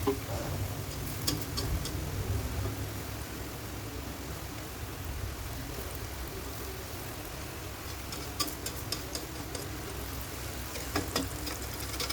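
Peanut crackers (peyek) fry in hot oil, a soft steady sizzle with faint crackling ticks and a few sharper pops near the end, no voices over it.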